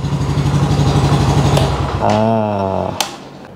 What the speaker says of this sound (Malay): so jom kita tutup enjin dulu.